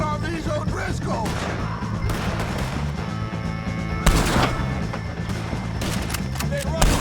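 Gunfire in a Red Dead Redemption 2 shootout against O'Driscoll gang members, with shots crackling under dense game music and voices talking throughout, a sharper burst standing out midway.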